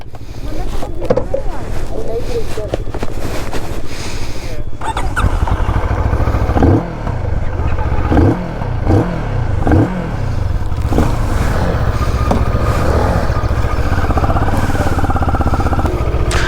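A Moto Morini Seiemmezzo 6½ retro scrambler rides along an off-road trail. Its engine drones steadily under heavy wind rush, with a few short revving surges near the middle, and the motor stays loud and close throughout.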